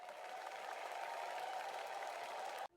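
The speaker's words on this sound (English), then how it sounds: "I am clapping my hands after the performance." Steady, dense applause from hands clapping after a sung performance, continuous and even in loudness before it cuts off abruptly.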